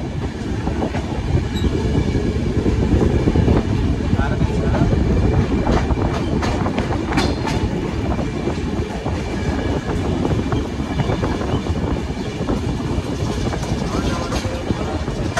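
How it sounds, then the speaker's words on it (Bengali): 12842 Coromandel Express train running on rails between Chennai and Kolkata, a loud continuous rumble with rattling carriages and occasional wheel squeal, steady throughout with faint voices in the background. "সকাল 8:28 ট্রেন এলো ভদ্রক স্টেশনে, প্রায় 3 ঘন্টা দেরিতে।"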